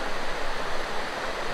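Clean river water flows steadily at Barangay Tibag in Subic, Zambales, a dense, continuous broadband rush like a small stream or cascade, close and fairly loud with no talking.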